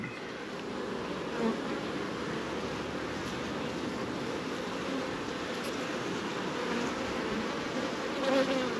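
Honeybees swarm around a home beehive during an inspection, making a steady, dense, close buzzing that drones on unbroken with no voices.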